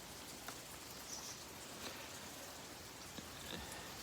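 Steady patter of raindrops on Hawaii's windward side on a quiet morning, a soft continuous hiss with occasional individual drips standing out, no voices.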